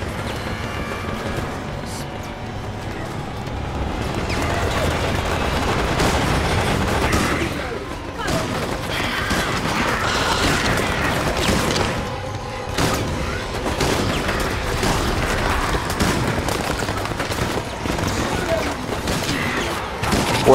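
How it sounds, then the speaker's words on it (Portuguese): Gunfire in the zombie shooter game Resident Evil: Operation Raccoon City, with repeated shots and bursts ringing over continuous loud game noise and background sound effects. "Não, a gente tá dando tiro."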